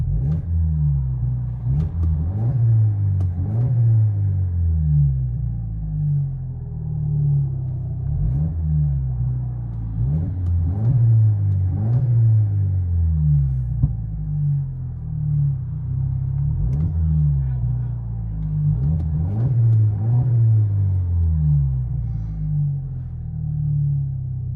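A 2023 Dodge Hornet GT with a 2.0L turbo engine and muffler delete drones from inside the cabin, with steady low rumble and repeated rising revs as it accelerates through gears; no talking.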